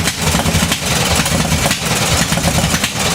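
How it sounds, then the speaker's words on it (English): A 10HP diesel garden tractor engine, cold and flooding, runs loud and close at high revs with a rough, pulsing drone that surges and dips in a regular rhythm. "see if your tractor starts"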